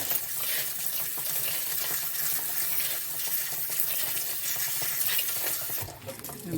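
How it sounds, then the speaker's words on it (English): Tumbled rocks being rinsed under running water after the stage 2 refining step, a steady close wash of splashing and trickling with stirring agitation, no voices, easing off near the end. "So let me give these another good rinse."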